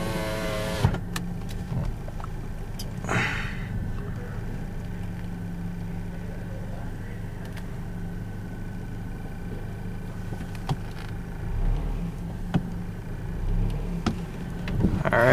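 A car eases into an automatic car wash, with a low engine hum, a brief whir like a power window, and occasional knocks and clicks over a steady rumble.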